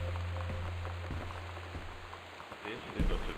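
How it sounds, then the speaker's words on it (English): Steady rain patters in the video game Gone Home during a storm warning, a continuous dense hiss of drops on surfaces, with a low hum and a muffled thump near the end. "high winds and torrential rain conditions"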